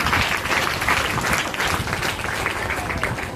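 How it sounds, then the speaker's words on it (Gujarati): A large audience claps for government school teachers, producing dense, sustained applause that stays close and loud throughout. "સરકારી શાળાના જે પણ શિક્ષકો ગુરુજનો અહીંયા ઉપસ્થિત છે એકવાર જોરદાર તાળી તેમના માટે કરી જોઈએ"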